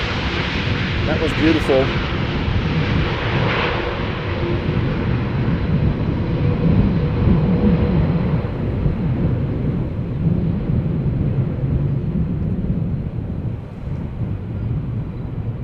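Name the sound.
airplane landing at Schiphol Airport in crosswind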